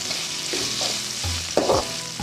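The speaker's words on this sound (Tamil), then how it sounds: "கொஞ்ச நேரம் வெண்டைக்காய் வதங்கணும்." Boiled okra sautés in a pan, giving a steady sizzling fry with occasional stirring scrapes and clinks close by, no voices present.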